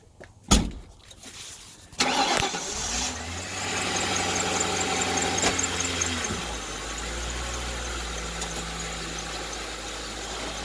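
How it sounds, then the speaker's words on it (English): A 1996 Ford Thunderbird engine cranks and catches after a couple of sharp clicks, then settles into a steady, low idle that later drops a little in pitch. "you start up the vehicle and back down the ramps"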